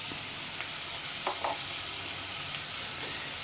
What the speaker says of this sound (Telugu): ఇప్పుడు ఈ ఉల్లిపాయని పచ్చిమిర్చిని ఒక్క నిమిషం పాటు మగ్గించుకుందామండి